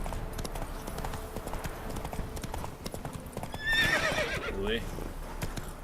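Roach, a horse in The Witcher 3: Wild Hunt, gallops with steady, rhythmic clip-clop hoofbeats throughout, and a loud whinny rises near the middle. A person briefly speaks over the hooves.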